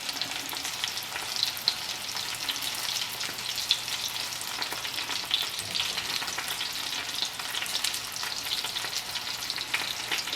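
Thin perch fillets frying in a pan, a dense, steady crackling sizzle with bright spitting pops throughout, close and continuous without any speech.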